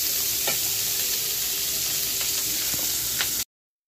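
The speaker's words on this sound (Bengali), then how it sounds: "এগুলো ভেজে তুলে নিলাম।" Food fries in a pan with a loud, continuous close-up sizzle, broken by a few faint utensil taps, before cutting off abruptly near the end.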